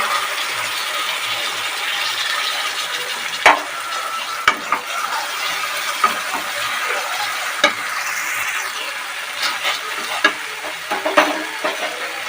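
Spice paste for Bengali doi katla (rohu fish in yogurt) frying and being stirred in a pan: a steady broadband sizzle with intermittent scraping clicks of the spatula, close and alone.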